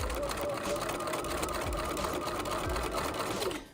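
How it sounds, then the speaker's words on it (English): Sewing machine stitching a fabric edge into bias tape: a steady, rapid mechanical whir with a rhythmic pulsing thump, running continuously and close up, then stopping abruptly at the end. "and then you just sew."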